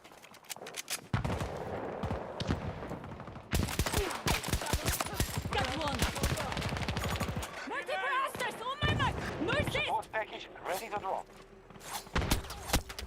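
Video game gunfire crackles in bursts and rapid volleys throughout, fairly loud, with a voice talking over and between the shots.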